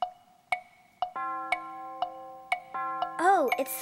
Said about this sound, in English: Oh, it's the clock.